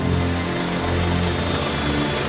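A helicopter in the Rhodope Mountains of southern Bulgaria gives a loud, steady engine and rotor roar that holds evenly throughout, with no talk.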